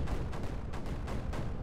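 Cannon firing in the strategy game Creeper World 4: several booming shots spaced roughly evenly, each a broad thump with a short tail, loud and without voices.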